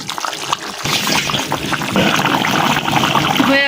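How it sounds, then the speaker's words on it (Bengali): Gravy being poured into a pot of chicken and potato curry, a steady splashing pour that runs continuously and close by, with no talk over it. "এখন আমি ঝোল দিয়ে দিব।"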